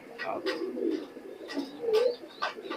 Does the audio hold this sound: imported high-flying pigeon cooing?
yes